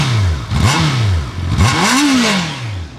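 A Honda CB650R inline-four motorcycle revved close up, with three sharp throttle blips that rise and fall quickly, the last climbing highest before settling back to idle, loud and alone.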